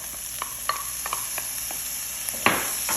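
Liver stirred in a frying pan with coriander leaves, scattered spoon scrapes and clicks over a steady background hiss and faint sizzle, with one louder scrape near the end.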